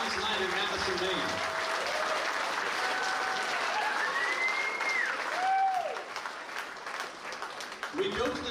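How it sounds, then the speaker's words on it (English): An audience at a boxing event in Madison, Maine applauds both fighters after a four-round bout, sustained clapping and crowd noise under an announcer's amplified voice, fading out near the end. "How about a round of applause for both these warriors going 4 hard rounds tonight in Madison, Maine."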